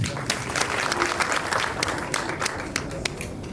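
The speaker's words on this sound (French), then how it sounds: "je vous demande d'applaudir encore chaleureusement" An audience at a ceremony for a league cup trophy and key handover claps warmly. The steady, dense applause fills the whole stretch and stays at a moderate level.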